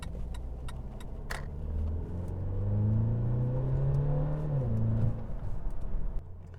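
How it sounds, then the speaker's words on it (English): A 2015+ Mercedes C300 W205 with an upgraded downpipe and coil plugs pulls hard in sport mode, its engine note climbing steadily and loudly before a quick upshift drops the pitch, then easing off. "Okay, I just did a quick pull."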